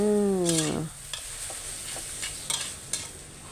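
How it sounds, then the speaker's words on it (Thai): Minced beef with chili sizzling and being stirred dry in a hot pan for Thai basil stir-fry, with scraping utensil strokes; a brief tonal whine at the start. "ใส่พริกลงไป ผัดต่อไปอีกเลยจ้า"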